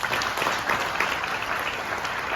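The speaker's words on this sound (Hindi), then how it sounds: "जोरदार तालियां।" Loud, dense audience applause at a real estate investment presentation in Indore fills the room steadily and evenly, many hands clapping together without a break.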